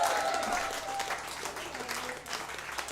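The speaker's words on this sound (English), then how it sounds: "Give them a big round of applause" Applause from a music-venue audience cheering an Australian band's set, a steady wash of clapping running throughout at moderate level, with a faint low hum beneath.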